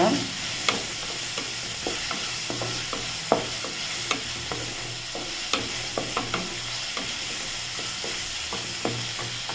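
Onions sauté in a pan for kothu chapati, a continuous close sizzle broken by regular spatula scrapes and taps, with no voices.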